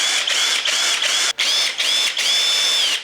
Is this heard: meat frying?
no